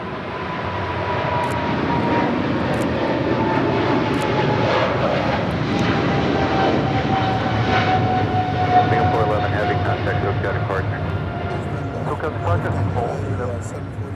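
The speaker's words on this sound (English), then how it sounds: "That's a 747-8." A Boeing 747-8 at Los Angeles International Airport rumbles with a loud, sustained jet roar and a faint rising whine, building over the first seconds and holding steady while people talk nearby.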